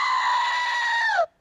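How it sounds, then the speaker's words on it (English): A novelty sound button plays a goat screech, a single loud, sustained bleating scream lasting about a second that bends downward in pitch and cuts off abruptly into silence. "So if you're looking for a goat sound screeching button, I would highly recommend this one."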